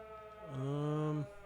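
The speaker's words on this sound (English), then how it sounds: "Air raid siren." A rising, sustained air raid siren in the video game Everybody's Gone To The Rapture, sliding up to a steady harmonic wail for under a second before cutting off, loud against a quiet background.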